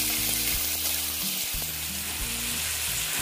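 Chopped onion frying in a pan for egg curry gives a steady, close sizzle throughout, with a few light stirring clicks and no talk.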